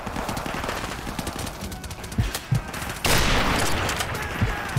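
Gunfire in Modern Warfare Remastered during a rooftop sniping fight: a sharp shot bursts out midway and leaves a loud, sustained noisy wash, with scattered fainter shots and crackle before it.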